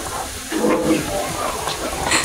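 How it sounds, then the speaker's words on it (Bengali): Mustard seeds are ground by hand with a stone, giving a rough, continuous close-up grating and scraping with a hissy texture and no clear pauses. "তো এই যে বিচিগুলো এবার বেটে নেব। আমি বাটছি, আওয়াজটা শুনুন।"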